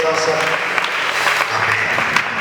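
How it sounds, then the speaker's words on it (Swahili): A church congregation at a prayer gathering claps together in a dense, steady burst of applause, loud and close, with voices mixed in under the clapping. "Tumpigie Bwana Yesu makofi kwa ajili ya mtumishi anaposogea mbele sasa"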